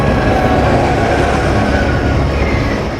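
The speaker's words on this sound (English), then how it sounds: "the coal train passes over and through the Blue Mountains" Heavy 5,000-ton coal train rumbling through the Blue Mountains, a loud, steady broadband roar of wagons and wheels filling the whole stretch with no speech.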